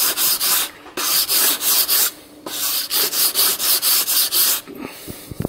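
Sandpaper rubs a wooden board bow in quick regular back-and-forth strokes, close and loud, in three runs of rhythmic scratchy passes with short pauses between.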